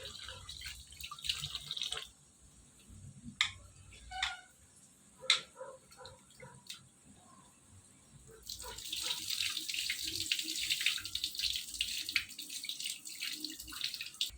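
Soaked rice is washed in water for biryani: scattered drips and small splashes come first, then a steady stream of running water pours and sloshes nearby.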